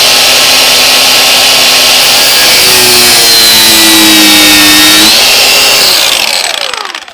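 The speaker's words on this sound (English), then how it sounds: "Doesn't matter how many cuts you put in the bolt." A power tool grinds loudly and steadily through a rounded star drive bolt on a Vauxhall Corsa D rear bumper, its pitch shifting under load for several seconds before winding down at the end.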